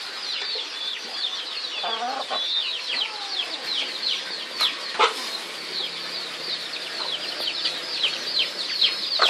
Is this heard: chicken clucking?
yes